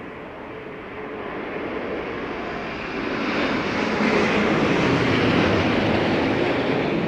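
An American Boeing Dreamliner airliner at London Heathrow during Storm Darragh produces a broad, rushing engine roar that builds steadily louder and stays strong to the end.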